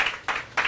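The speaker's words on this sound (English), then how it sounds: "can we give him a round of applause here" Audience applause at a community talk, short bursts of clapping swelling twice within a brief moment, moderately loud and without speech.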